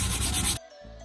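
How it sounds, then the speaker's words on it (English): Brisk back-and-forth rubbing of fine sandpaper against a hard tumbler surface, close and steady, stopping abruptly halfway through. "that's really important to use a fine sanding"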